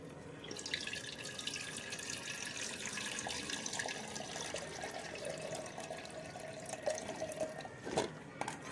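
Water runs and splashes steadily while sour berry fruit is washed, a continuous close wash with small drips and a sharper splash near the end, no talking.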